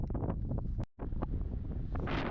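Strong wind at Cap de Creus buffets the microphone with loud, continuous roaring gusts, broken by a brief moment of quiet.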